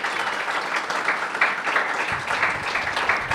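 An audience applauding for a performer named Simit at a poetry event, a dense, steady wash of clapping that lasts throughout.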